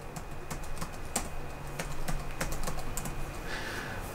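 Password being typed on a computer keyboard during a Kali Linux setup on Windows, with irregular bursts of close, crisp key clicks over a faint steady hum.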